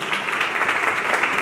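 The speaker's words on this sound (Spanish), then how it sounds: "Dale un aplauso fuerte al Señor" A church congregation applauds during an evangelical service, a dense, steady wash of clapping that fills the whole short stretch without any break.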